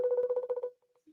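A phone ringtone plays as a quick run of rhythmic electronic tones, loud and close, then breaks off into a few faint blips.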